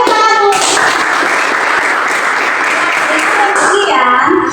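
A class of students applauds during a Christian religious education lesson, a loud burst of clapping with children's voices and a teacher's voice around it at the start and end.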